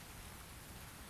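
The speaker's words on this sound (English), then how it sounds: "and it's raining" Steady, soft rainfall with an even hiss, heard alone from under a tree, without talk.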